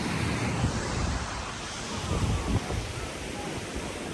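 Soft, steady surf washing on the beach at Tybee Island, Georgia, a diffuse low roar with light wind noise on the microphone and no clear voices.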